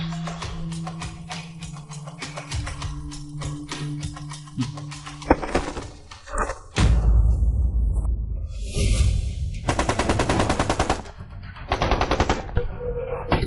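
Battle effects of a missile strike, artillery blasts and machine-gun fire, with rapid bursts of automatic fire, booming impacts and whooshes layered densely, loud and continuous, shifting into heavier rumbling explosions midway.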